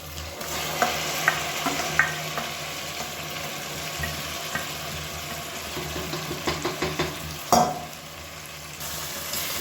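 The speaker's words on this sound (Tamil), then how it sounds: "இப்போ நல்லா பரட்டி விட்டுக்கலாம்." Chicken pieces frying in oil in a pan while being stirred, a continuous sizzle with repeated scraping stir clicks and one louder clatter near the end.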